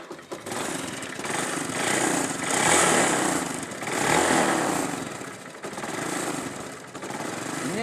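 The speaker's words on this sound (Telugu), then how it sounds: "ఇప్పుడు ఒకసారి మీకు బండి స్టార్ట్ చేసి అయితే నేను చూపిస్తాను." A motorbike engine runs steadily after starting, a rough mechanical drone with slight rises and falls in revving, close and loud throughout with no talking.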